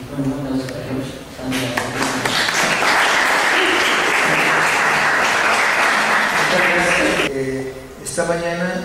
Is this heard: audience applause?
yes